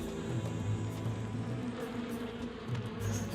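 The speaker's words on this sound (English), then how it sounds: "For some reason, the bees don't care about the pool of honey." Swarming bees buzz steadily around a pool of honey in the Shadow of Rome video game, a dense, continuous drone that stays fairly loud throughout with no voices.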